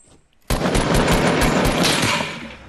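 Automatic gunfire in Fortnite: after a quiet moment, a close, loud burst of rapid shots erupts and keeps rattling for about two seconds before tapering off slightly.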